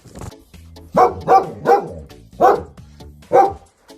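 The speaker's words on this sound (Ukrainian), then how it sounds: "Це велика собака так гавкає." A large dog barks five times in deep, loud woofs, spaced unevenly and close by, with quiet pauses between.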